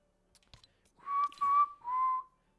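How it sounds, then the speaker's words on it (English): Three short whistled notes close to the microphone, the first two steady and bright, the last slightly lower, after a few faint clicks. "Whistling and microphone sounds horrible"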